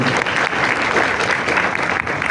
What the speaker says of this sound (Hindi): बजाना है तो सही से तालियां बजाओ ना